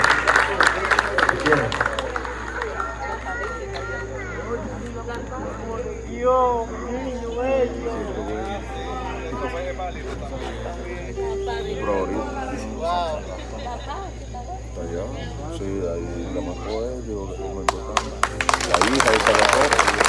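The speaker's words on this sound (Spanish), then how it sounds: "Yo creo que le den un fuerte aplauso" A concert crowd breaks into applause and cheering in a loud burst at the start and again near the end, with someone talking at length in between.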